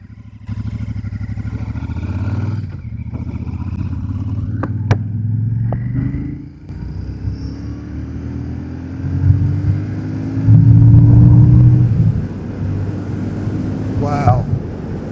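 A Royal Enfield Super Meteor 650 fitted with a Daytona Velona rev counter revs up toward 7,000 RPM, its engine note climbing steadily then peaking loudly near the end, with someone talking over it.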